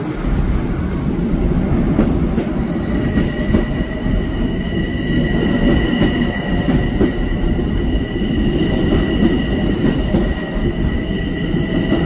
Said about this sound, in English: let's watch this M7 come in here and terminate first